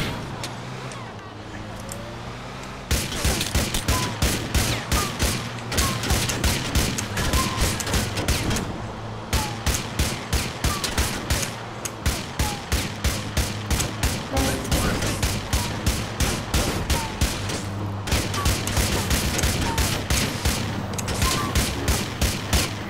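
Gunfire in GTA IV aimed at a car's tires, loud rapid volleys of shots repeating in long bursts with short pauses between, over engine and street noise, with voices talking at points.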